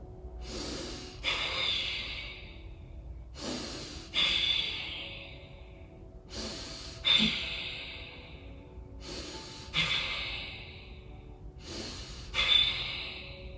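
Five forceful breath pumps during a breathwork exercise, each a sharp nasal snort-like puff followed by a fading airy exhale, evenly spaced about every three seconds, close and clear with no talking.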